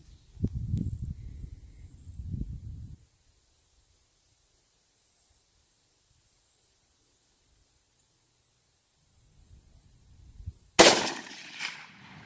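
One loud, abrupt rifle report from a 6.5 Creedmoor firing Sellier & Bellot 140 grain FMJ ammunition, followed by a short echoing decay, after a long quiet stretch with faint low rumbles and handling noise.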